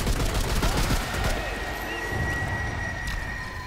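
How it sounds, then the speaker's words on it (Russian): Rapid rifle gunfire from the video game Remnant 2, a dense loud burst of automatic shots in the opening second and a half that fades into a lingering ringing tail. "Винтовка, кстати, классная, прям нормально косит."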